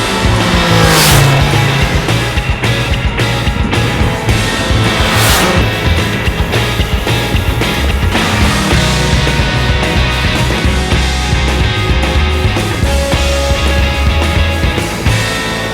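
Sport motorcycles, an MV Agusta Brutale 800, Triumph triples and a Yamaha FZ, ride hard with loud revving engines rising and falling through gear changes, continuous and close, with no voices.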